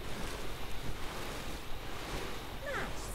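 Water sprays onto crops in the farming video game Lightyear Frontier, a steady broadband whooshing hiss like a hose or sprayer, continuous and fairly loud, with a brief chirping tone near the end and no voices.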